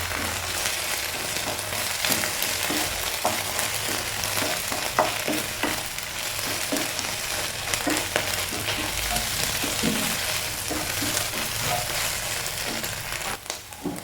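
Beaten eggs scrambled in a frying pan for kappa mutta, a loud continuous sizzle with frequent scraping and crunchy stirring strokes close up, no talking.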